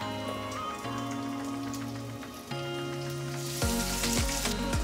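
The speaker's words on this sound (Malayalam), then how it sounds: "എണ്ണ ചൂടായിട്ടുണ്ട്. അപ്പം ഞാനിവിടെ 1 teaspoon ഗാർലിക് ചെറുതായിട്ട് അരിഞ്ഞതിട്ട് കൊടുക്കുകയാണ്." Chopped garlic, ginger and green chillies sizzle in hot oil, a crackling, spattering fry that gets louder near the end, with tonal background sounds underneath and no talking.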